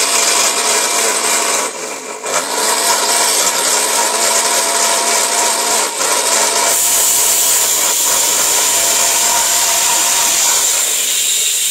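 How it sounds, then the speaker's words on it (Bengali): A blender grinding dried fish with a little water into a paste for bhorta, running as a loud, steady whirring roar for the whole stretch, its pitch shifting slightly as the mixture thins. "এই দেখেন ব্লেন্ডারে পেস্ট।"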